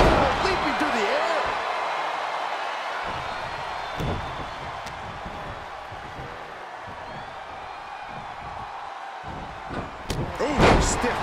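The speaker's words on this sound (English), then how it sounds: "Ooh, stiff punch." Hard punch impacts in a mixed-gender tag-team wrestling video game land as scattered thuds amid constant arena crowd noise, with a sharper hit near the middle and a cluster of blows at the end, under an excited commentator's voice.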